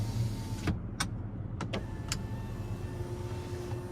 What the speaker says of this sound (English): And then we have our power rear window.